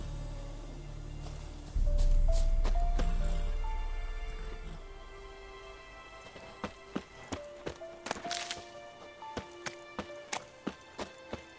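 Roach the horse gallops in The Witcher 3, a steady run of hoof clip-clops in a regular rhythm, clear and fairly close, with music playing behind and no one talking.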